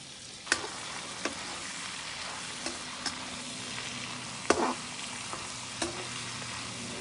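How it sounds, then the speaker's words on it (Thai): Vegetables and pork belly sizzle steadily in a hot wok while a utensil scrapes and clacks against the metal every second or so as it is stirred. "วันนี้เราจะมาผัดผักใส่หมู3ชั้น"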